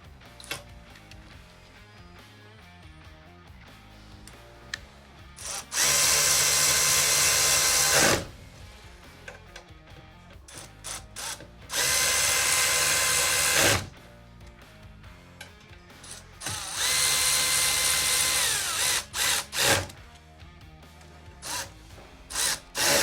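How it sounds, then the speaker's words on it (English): An impact driver turns a 1/4-inch hex bit while assembling a Dramm MS20 100 hydraulic sprayer, in three loud sustained bursts of a few seconds each, separated by quieter handling and tool clatter. "Then it's just a 1/4-inch hex bit. I just use a impact."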